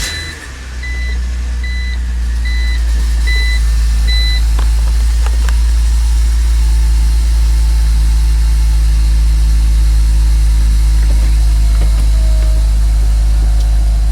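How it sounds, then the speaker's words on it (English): A BMW E83 X3 engine turns over in a garage and settles into a steady, low idle, with a few electronic beeps chiming early on. "let's start the car up."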